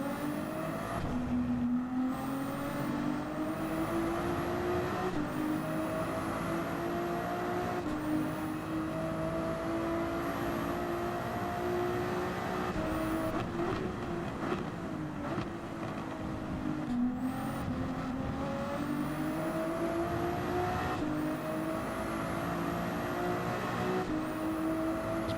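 A race car engine in Gran Turismo 7 revs up through repeated gear changes, climbing and dropping in pitch over about 25 seconds, steady and fairly loud with no talk.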